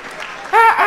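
Comedy show audience in Abuja breaks into loud clapping after a short quieter stretch, with a voice rising over the applause near the end.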